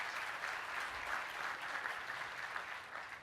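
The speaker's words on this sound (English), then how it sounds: "Ladies and gentlemen, please give a round of applause to our panelists for their time this morning." Steady applause from a conference audience for an IoT panel's panelists, a dense, even patter of many hands holding at a moderate, slightly distant level throughout.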